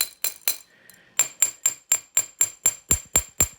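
A hammer strikes a wire-wrapped copper bracelet in quick, evenly spaced metallic taps, about a dozen sharp ringing hits close to the microphone, with a brief pause after the first few.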